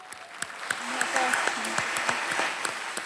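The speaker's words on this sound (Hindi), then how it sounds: "तालियों के साथ हम इनका अभिनंदन करते हैं" Studio audience on a TV quiz show claps in a dense, steady burst of applause with sharp individual claps standing out, while a voice speaks over it.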